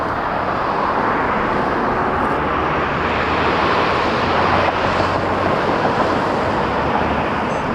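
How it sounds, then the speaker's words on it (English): An Air Canada Boeing 787 Dreamliner arriving from Seoul at Toronto Pearson gives off a steady broadband jet roar that holds loud and even throughout, with a low rumbling undertone and no talk. "Air Canada 627879 Dreamliner from Seoul."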